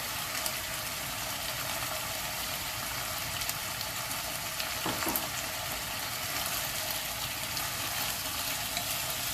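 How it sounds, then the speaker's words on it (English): Pork, tofu and peppercorns frying in a pan for mapo tofu, with a dense, steady sizzle throughout and a brief soft scrape of stirring midway. "Now we can add the tofu and the peppercorn"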